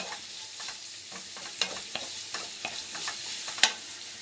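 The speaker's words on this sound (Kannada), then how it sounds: "ಇದು ಚೆನ್ನಾಗಿ ಫ್ರೈ ಆಗಬೇಕು." Hotel-style noodle ingredients, salted, frying in a pan with a steady sizzle while being stirred, close by, with scraping strokes of the utensil and one sharp clink.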